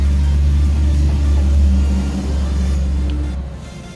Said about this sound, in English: Sorry about the background noise, I live on a busy road.